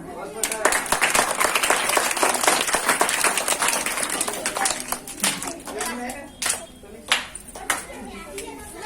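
An audience applauds after a dance performance at a Shiv Jayanti celebration in Nanded. The clapping is dense and sustained at first, then thins to scattered claps toward the end, with voices and children's chatter mixed in.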